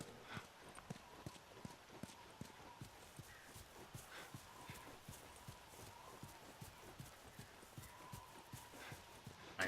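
Horse hooves clip-clopping steadily in The Last of Us video game, a quick, even trotting rhythm of soft repeated thuds, fairly quiet, with occasional faint talk over it.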